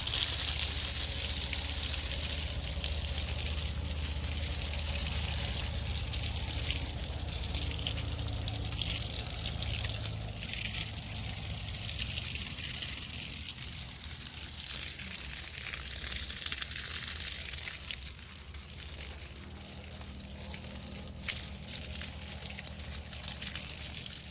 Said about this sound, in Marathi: द्राक्षाच्या झाडांना आपल्याला पाणी द्यायचं आहे मी पाणी देते की बघा